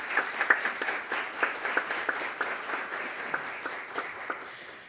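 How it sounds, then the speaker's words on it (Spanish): Conference audience breaks into steady applause, many hands clapping in a dense, even patter that carries on for several seconds at moderate distance, with no voices over it. "para quien pido un fuerte aplauso, por favor"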